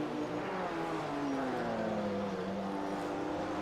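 A turbocharged BMW six-cylinder race car engine in the iRacing video game, racing at Sebring, hums at a faint, steady pitch that slides gently up and down as the car runs along the track.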